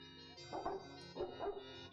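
Cartoonish puppies bark in the Return to Zork video game, a few yappy barks in two quick bursts, fairly close and clear, with no talk over them.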